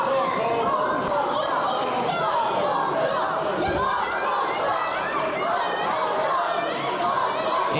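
Wrestling arena crowd at a Fight Factory Wrestling heavyweight bout, a steady dense wash of chatter, shouts and scattered cheers from many voices, loud and continuous throughout.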